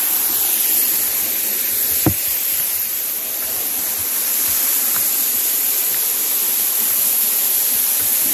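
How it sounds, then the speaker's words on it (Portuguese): A waterfall in Japan gives a steady, broad rushing roar that fills the whole clip evenly, with one brief sharp knock near the start and no talking. "segunda cachoeira"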